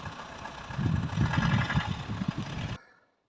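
A car engine idles steadily while parking beside a city market in the evening, a close, low, even rumble with slight pulsing that cuts off abruptly near the end as the engine stops.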